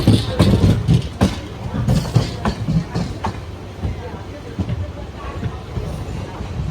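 A MEMU passenger train, number 67201 running from Rajahmundry to Vijayawada, rolls along the rails with a loud, close rumble and rhythmic wheel clatter early on, easing into a steadier drone.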